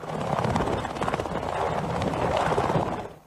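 A military helicopter flies over mountainous terrain during an avalanche rescue. Its rotor gives a loud, close, steady thumping roar with a fast pulsing beat that fades off at the very end.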